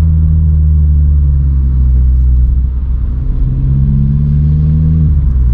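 A Vauxhall Corsa's engine drones loudly from inside the cabin during a night drive through town, holding a steady low hum with revs easing off and then climbing again, heard alone without talk.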